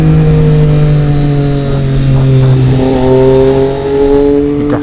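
A Triumph Street Triple 765 RS three-cylinder motorcycle engine revs loudly and close on twisty roads, its tone rising and falling with throttle changes through gear shifts, sustained and alone.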